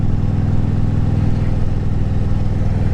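A 2010 Harley-Davidson Street Glide Ultra motorcycle engine drones steadily while riding at night, a loud, close, continuous low rumble with even pulsing and no voices.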